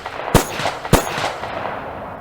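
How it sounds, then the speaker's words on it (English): Two sharp, loud gunshots about half a second apart, each a sudden crack with a short decay, followed by quiet ambient background. "gunshots"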